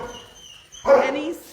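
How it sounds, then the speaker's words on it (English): A seven-month-old boxer and Plott hound mix barks once from inside a kennel at an adoption event, a single loud burst that lands right after a stretch of speech. "This next dog. Oh, dang, that bark."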